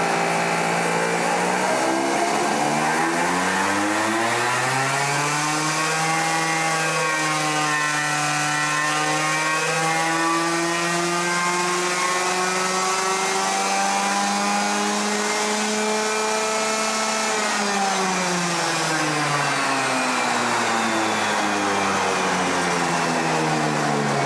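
A new 2-cycle kart engine being broken in, its buzzing exhaust note sweeping repeatedly up and down through the rev range, loud and continuous throughout with no talk.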